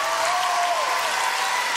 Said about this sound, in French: Mesdames, messieurs, ça s'applaudit.